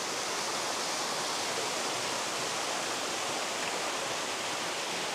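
A steady, dense rush of falling water from a temple waterfall fills the space evenly, loud and continuous without any break.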